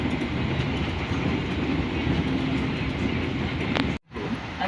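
An Indonesian Progo economy passenger train rumbles steadily along the rails near Cirebon Prujakan station, a dense continuous roar with faint rhythmic clatter, cutting out abruptly near the end.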